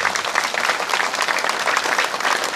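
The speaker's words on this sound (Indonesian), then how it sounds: "Kepada Bapak Uskup kita berikan tepuk tangan." A large crowd at an Indonesian religious gathering claps loudly and continuously, a dense, sustained round of applause with no talk over it.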